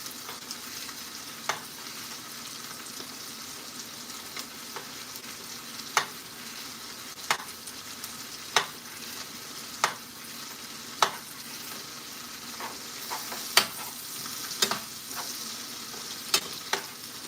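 A steak frying on a hot burner gives a continuous hissing sizzle, broken by frequent spitting pops that grow more regular toward the end, close up with no talking.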